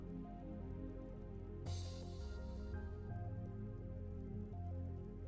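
Rain runs off a roof in Skyrim, a steady patter and drip over a low ambient game drone with tonal music, brightening into a denser splash for about a second midway before settling back.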